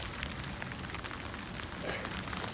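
Steady rain patters across a surface during a travel stop on Highway 1 in Baja, Mexico, a dense, even hiss of drops at moderate level filling the whole moment with no voices.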